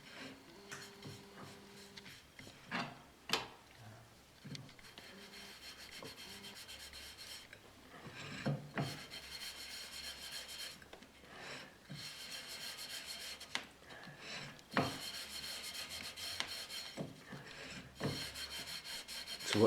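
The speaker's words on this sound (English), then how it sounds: "So what's the substance you're rubbing on? It's soft soap." Soft soap is rubbed by hand over a paper transfer print laid on pottery, giving repeated close, faint scrubbing and rasping strokes in uneven bursts, with brief knocks and no talking.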